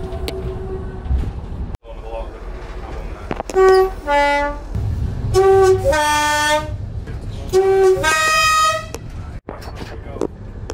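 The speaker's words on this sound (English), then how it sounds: "Yeah, your horn." A Class 20 diesel locomotive at Hope Cement Works gives a series of loud two-tone horn blasts over engine rumble inside the cab, with people talking between them.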